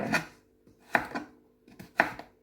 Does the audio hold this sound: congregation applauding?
no